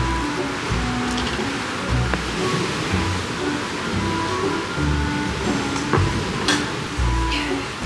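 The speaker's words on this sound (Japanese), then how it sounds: "波の音を聞きながら。" Ocean waves on a Wakayama beach during a seaside barbecue, a steady wash of surf noise with soft swells and occasional light clicks.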